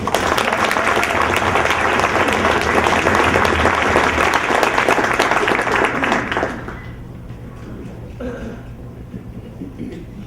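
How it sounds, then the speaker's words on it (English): Loud, dense applause from a banquet crowd at an Oshkosh Ice Hawks hockey banquet, sustained for about six seconds before cutting off, leaving faint room noise and a few scattered sounds. "I just want to give him a round of applause"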